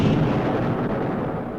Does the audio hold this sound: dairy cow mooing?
no